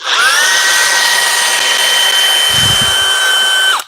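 A Makita 40V high-power cordless drill whines steadily at speed 2 for several seconds, loud and close, with a brief low rumble near the end before the motor winds down and stops.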